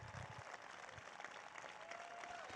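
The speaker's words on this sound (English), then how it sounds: "you deserve a huge round of applause" An audience at a political event celebrating the Inflation Reduction Act claps in steady, dense applause that carries through the whole stretch at moderate loudness.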